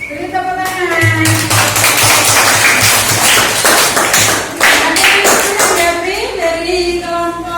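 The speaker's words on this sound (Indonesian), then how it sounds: "Beri tepuk tangan." Classroom applause from students after a group presentation, dense clapping with voices mixed in throughout, fairly loud and close, tapering off near the end.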